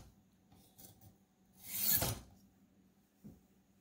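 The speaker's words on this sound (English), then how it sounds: "I love this sharpener though." A knife blade drawn once through a Warthog sharpener gives a single rasping, filing stroke in a quiet room, followed by a faint short scrape.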